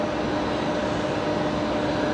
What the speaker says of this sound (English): So Qatari just about to make a right-hand turn onto Taxiway Zulu